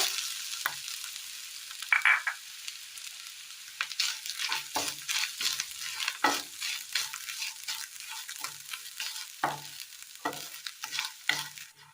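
Garlic, shallots, cinnamon, cardamom and grated coconut fry in a pan with a steady high-pitched sizzle, broken by repeated scraping stirs and one brief sharp clink, close and fairly quiet with no talking.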